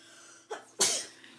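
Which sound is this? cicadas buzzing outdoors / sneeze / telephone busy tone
sneeze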